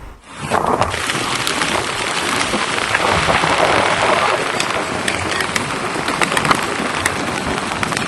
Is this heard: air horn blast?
no